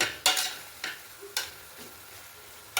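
A spoon stirs chilli powder and garam masala coriander powder into a sizzling egg biryani masala in a pan, giving several short scraping strokes over a soft frying hiss, with no voices.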